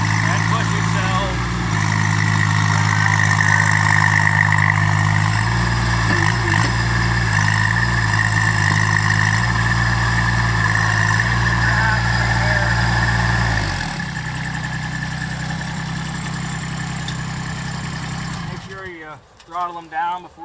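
A Groundhog Equipment ZH24D-2 mini excavator engine runs steadily at a loud, low idle throughout. Its level drops at about 14 seconds as the engine throttles down, then it cuts off near the end.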